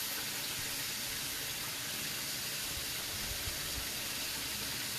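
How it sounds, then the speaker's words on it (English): Liquid pours steadily over pork chops as they are smothered in a pan, a soft continuous watery hiss running for several seconds with no voices. "So I'm gonna pour this over my chops."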